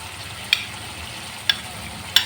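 Ground cumin and chili fry in a pan under an even, steady sizzle, with three sharp utensil taps against the pan spaced about a second apart.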